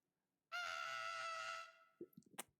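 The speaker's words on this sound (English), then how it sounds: "It's the goat noise from Cult of the Lamb when the goat screams" Goat scream from the video game Cult of the Lamb: one loud, sustained bleating cry about a second long, ending in a few short clipped noises.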